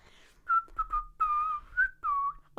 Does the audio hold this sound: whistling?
yes